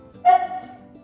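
A single short, excited yelp from a dog indoors, close and fairly loud, with a bright pitched onset that trails off quickly.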